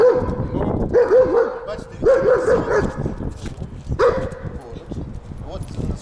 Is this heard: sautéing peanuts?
no